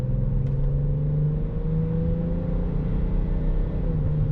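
BMW X5 SUV accelerating on a highway, heard from inside the cabin as a steady, low engine rumble and drone with a slowly rising pitch, continuous and fairly loud, with no talk.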